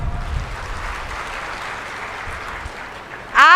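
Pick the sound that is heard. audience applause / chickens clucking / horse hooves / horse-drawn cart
audience applause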